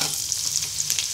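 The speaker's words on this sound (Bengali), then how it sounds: "পেঁয়াজটাকে ব্রাউন কালার করে ভেজে নিব" Chopped onions frying in soybean oil in a wok, a steady close hiss of sizzling with light stirring scrapes, no voices.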